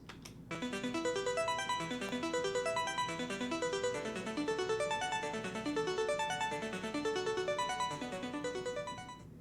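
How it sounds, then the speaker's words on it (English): Bright arpeggiator synth line from a last chorus, rapid evenly stepped notes rising and falling in repeating patterns over a soft sustained bed, clean and unaccompanied by voices. "we add this arpeggiator type thing"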